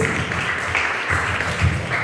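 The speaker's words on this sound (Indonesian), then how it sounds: "Tepuk tangan untuk Tuhan Yesus" A church congregation claps together during a Sunday service, a loud, continuous patter of many hands with slight pulsing swells, heard close and alone without any speech over it.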